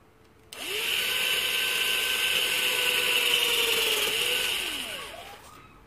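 Battery-powered hydraulic crimping tool pressing a cable terminal for electrical panel work, a steady loud motor whine lasting several seconds that starts abruptly and winds down at the end, with no talk.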